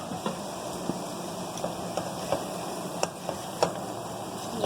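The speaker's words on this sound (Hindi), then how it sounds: "ये शिमला मिर्च और ये बंद गोभी, ये सब ऐड कर देंगे इसमें और इसे अच्छी तरह मिक्स कर लेंगे।" Capsicum and cabbage being stirred into Maggi noodles in a pan: soft scraping and light tapping strokes over a steady low sizzle, fairly quiet and even, with no voices.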